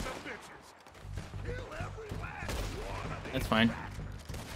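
Gunfire crackles during a Western shootout in the video game Red Dead Redemption 2. A few sharp shots come quietly under casual talk from players.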